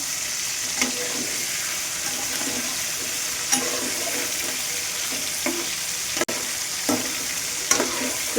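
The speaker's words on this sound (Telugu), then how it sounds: "ఓకేనండి, వేగిపోతున్నాయి కదా." Chicken pieces frying in a pan for fried rice, a loud continuous sizzle with periodic clacks and scrapes of a turning spatula, recorded close up.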